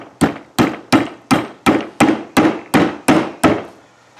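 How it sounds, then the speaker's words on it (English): Steel hammer striking a CV joint boot clamp on a 2005 Jeep Grand Cherokee driveshaft to flatten it: ten loud, evenly spaced metallic blows, each ringing briefly, close up with no talk. "I'm going to hit it with a hammer just to flatten it out just a little bit."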